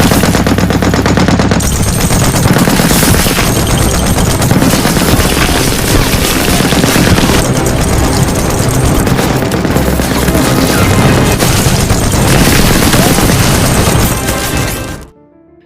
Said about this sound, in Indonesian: Dani dengan senjata mesinnya berhasil menghabisi seluruh tentara yang mendekati parit tersebut